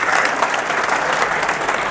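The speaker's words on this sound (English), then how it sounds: "We need to give them a round of applause," Steady, loud audience applause fills a large hall, dense and even from start to finish with no voices over it.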